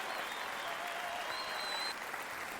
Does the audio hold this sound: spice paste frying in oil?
no